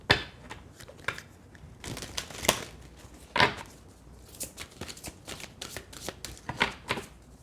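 Tarot cards are shuffled and handled at close range: soft papery riffles, slides and taps come in irregular bursts, fairly quiet, with no talking.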